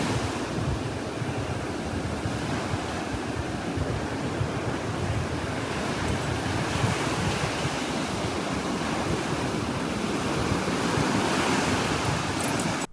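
Ocean waves surge and break steadily along a shore, a continuous loud wash of surf with wind rumbling against the microphone throughout.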